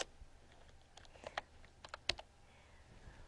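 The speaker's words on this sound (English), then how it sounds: "when I type something in" Quiet keystrokes tap on a computer keyboard in an irregular burst of clicks, a few sharper presses standing out, close and isolated with no talking.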